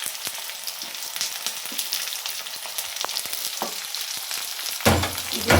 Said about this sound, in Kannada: ಈಗ ಸಾಸಿವೆ ಜೀರಿಗೆ ಚೆನ್ನಾಗಿ ಫ್ರೈ ಆಗಿದೆ